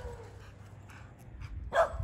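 A dog barks once, sharp and fairly close, near the end, with other dogs around on a walk where several dogs meet. Low ambient rumble fills the rest.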